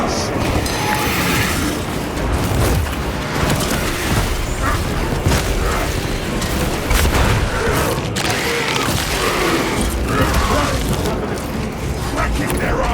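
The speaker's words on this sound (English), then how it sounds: "Unleashing black grenade." Heavy explosions and gunfire boom through a battle in Space Marine 2 as a grenade is thrown against armored enemies. The blasts are loud and sustained, layered with weapon clatter and mechanical noise, and a voice talks over the combat.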